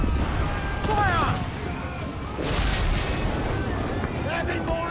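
Ship cannons in Assassin's Creed IV: Black Flag fire in two heavy blasts a couple of seconds apart, each a broad roaring boom amid wind and sea noise, with shouting voices mixed in.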